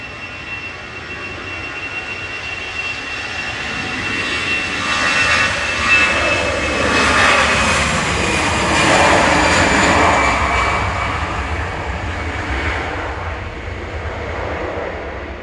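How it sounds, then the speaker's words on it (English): An EasyJet jet airliner departs Manchester Airport for Jersey. Its engine roar swells to a loud peak mid-way and then eases off into a long rumbling fade, with no talking. "EasyJet's next up for departure here. This is heading off to Jersey, GEZRT."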